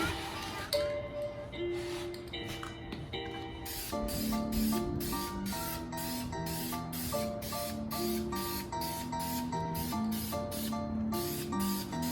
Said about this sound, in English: So we're with the steel. So we're gonna spray it on just a light coat